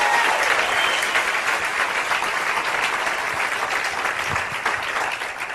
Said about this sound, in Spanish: Un aplauso a Chile que está reinando